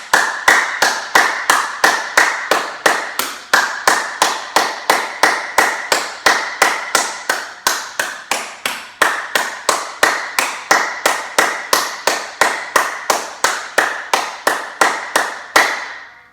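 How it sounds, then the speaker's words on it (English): A yoga class claps hands in a fast, steady rhythm of sharp, loud claps, continuous and alone for about sixteen seconds before stopping. "Let's do clapping for 30 seconds to increase a lot of blood circulation in our body."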